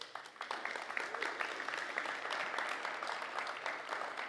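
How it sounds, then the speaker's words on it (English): Conference audience at a software developer event claps for a presenter, a fairly thin, moderately distant applause with individual claps distinguishable throughout. "Give him a big round of applause"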